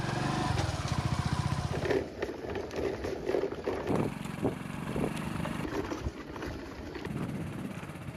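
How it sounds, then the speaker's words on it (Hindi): A motorbike carries riders along a rough rural route toward a hill village in Jharkhand, its engine buzzing steadily and close throughout with bumps and wind-like noise. "हमें बाइक के सहारे अपने गाँव तक ले जा रहे हैं।"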